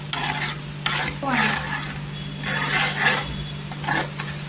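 Jaggery lumps are stirred into boiling tea in a pan, a steady scraping swirl with soft spoon clinks against the metal, repeated in several bursts over a constant low hum.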